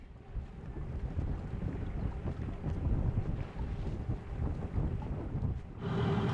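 Fresh wind buffeting the microphone aboard a sailboat on a sunny coastal channel near Smögen Island, a steady loud rushing roar with gusts rising and falling, water and hull noise underneath, no voices.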